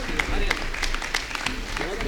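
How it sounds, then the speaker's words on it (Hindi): Audience applause greets a performer at a Panchkalyanak religious gathering and poetry event in Palwal, scattered crisp claps rising under someone speaking over a microphone, moderately loud. "जोरदार तालियों के बीच।"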